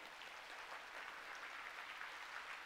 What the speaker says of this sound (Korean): 하나님께 영광의 박수 한번 올려드리도록 하겠습니다